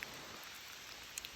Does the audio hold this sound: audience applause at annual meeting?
no